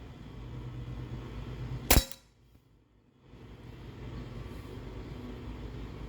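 A single sharp, loud crack as a .43 caliber paintball, kept a week in a freezer, smacks into a bin, followed by a brief hush before steady outdoor background noise returns.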